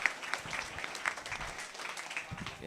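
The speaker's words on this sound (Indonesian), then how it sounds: "Boleh tepuk tangannya dong." Faint, scattered clapping from a group of new students at a university orientation event in Indonesia, light and uneven with a few sharper claps, distant and low in level.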